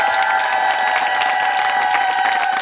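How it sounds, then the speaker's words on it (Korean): A Korean TV studio audience applauds at the close of an emergency rescue show, a dense, continuous wash of clapping that stays loud and steady throughout. "오늘 수고하신 분들께 여러분 박수 한번 보내주십시오"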